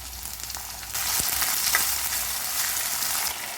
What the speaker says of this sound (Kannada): ಟೊಮೆಟೊ ಹಾಕೊಳ್ತಾ ಇದ್ದೀನಿ.